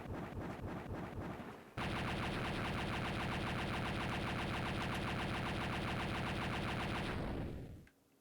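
Explosions in the Game Boy Advance game Castlevania: Harmony of Dissonance erupt as a dense, rapid-fire crackle of blasts that runs loud and unbroken for over five seconds before cutting off abruptly.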